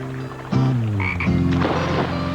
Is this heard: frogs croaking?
yes